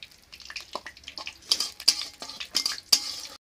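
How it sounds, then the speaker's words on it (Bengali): Okra is stirred in hot oil in a pan with whole spices, giving a series of close, irregular scraping and clattering strokes with a soft sizzle beneath. "ভেন্ডিগুলো তেলের উপরে আমি নেড়ে নেব।"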